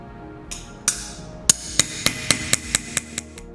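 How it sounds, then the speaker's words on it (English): An old ball peen hammer strikes a steel Damascus blade on an anvil. The sharp, ringing metallic blows come about ten times, speeding up into a steady rhythm, close and loud with no voices. "Using nothing more than an old ball peen and the anvil, I hammer both sides of the blade evenly to disrupt the layers of the steel."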